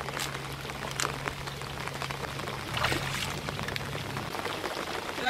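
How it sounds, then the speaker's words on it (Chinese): Heavy rain pours down steadily outdoors by a drainage ditch, a dense continuous hiss of drops on surfaces with a low steady hum underneath and brief louder surges. "今天晚上还会继续下雨，下大雨"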